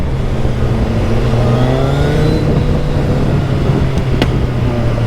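A loud motorbike, a Suzuki Hayabusa riding through Paris traffic, revs hard and steadily with a rising and falling engine note that carries through the whole stretch, with no talking over it.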